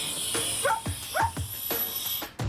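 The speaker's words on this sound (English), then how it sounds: "She gives me a certain bark when I'm hooked up." An outback trucker's dog barks about five times in a steady, fairly close series of short sharp yips over faint background noise while trailers are being hitched.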